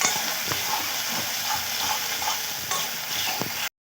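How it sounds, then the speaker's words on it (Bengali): Onion curry masala paste with a splash of water simmering and sizzling in a pan, a continuous close hiss and bubbling crackle with faint stirring knocks, cutting off abruptly. "এইভাবে আমি মশলাটাকে ভালো করে ফুটিয়ে নিচ্ছি।"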